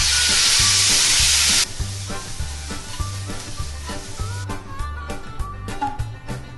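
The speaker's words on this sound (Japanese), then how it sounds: "ブロッコリーの皮加えて、さっと炒め合わせて" Broccoli peel hits a hot pan with a loud burst of sizzling, then is stir-fried with repeated rhythmic scraping and clacking of utensils over a softer, continuing sizzle.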